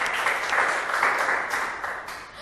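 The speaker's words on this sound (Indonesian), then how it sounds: "Kasih tepuk tangannya dong." A church congregation breaks into sustained applause, a full, even wash of clapping that holds steady and fades slightly at the close.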